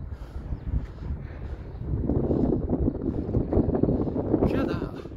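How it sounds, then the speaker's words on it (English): Wind blows across an elevated hilltop on a scenic walk, a broad steady rush that grows stronger after the first two seconds, with a brief brighter gust near the end. "Wow, you can hear the wind going, so there's an elevation."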